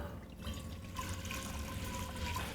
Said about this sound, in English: Need to put a pan of water on for the noodles.